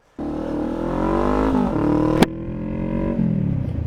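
A motorcycle engine revs hard to clean out its muffler, rising in pitch through a sustained roar with a sharp crack midway before the revs ease and hold.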